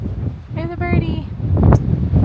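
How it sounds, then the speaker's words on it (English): Gusty wind buffets the microphone with low rumbling roar on the South Rim of Black Canyon of the Gunnison National Park, while a person speaks briefly over it. "So windy"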